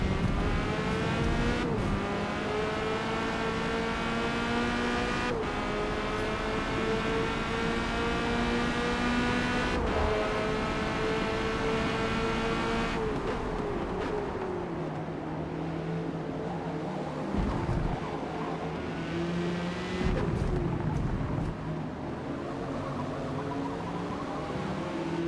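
A Corvette C8.R race car laps Silverstone in a video game, its engine loud and close, climbing through several gears with sharp upshifts, then dropping and revving again out of a corner, with no talking.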